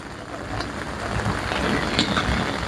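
Steady rain falling in a garden in Georgia, USA, a dense continuous hiss of drops with no clear pauses, fairly quiet and even throughout.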